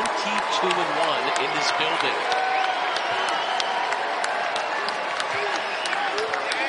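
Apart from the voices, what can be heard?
basketball arena crowd cheering and applauding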